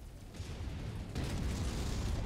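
A destroyed mech explodes in MechWarrior as a low, rumbling blast. It sits at a moderate level and swells into a louder, sustained roar partway through.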